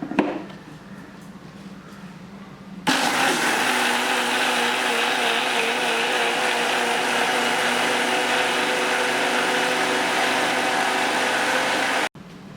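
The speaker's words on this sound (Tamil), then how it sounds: "இப்போ இது 2த்தையும் சேர்த்து நல்லா கிரைண்ட் பண்ணிக்கணும்." Wet grinder churning soaked seeraga samba rice with yogurt into dosa batter: after a quieter start the motor kicks in with a loud, steady whirring drone that runs evenly for about nine seconds before cutting off abruptly.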